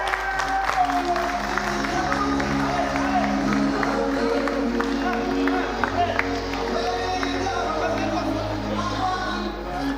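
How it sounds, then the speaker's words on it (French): A studio audience on a French-language TV entertainment show applauds a guest as he arrives, a busy mass of clapping and crowd noise with a low hum and stray voices mixed in. "On va l'applaudir très fort."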